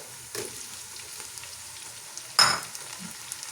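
Ingredients for chicken rice fry quietly in a pan with a faint steady sizzle, broken by a soft stir early on and one sharp scrape or clank near the end.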